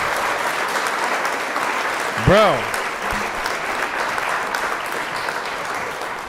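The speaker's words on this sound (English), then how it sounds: "Round of applause to Mark Cerny" Audience applause and cheering for Mark Cerny fill the room steadily throughout, with a voice briefly rising above the noise partway through.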